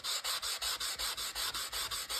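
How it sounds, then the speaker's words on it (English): A small salon sanding block scrubs rapidly back and forth across the surface of a playing card, each close, dry rasping stroke following the last in a steady, even rhythm with no talking. "sanding block that I brought home from a salon, well, it would have been nearly 5 years ago, is getting some use finally"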